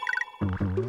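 A short, bright chiptune jingle from Donkey Kong Country marking an extra life, quick rising notes followed by a fuller chord-like tone, playing alone and close.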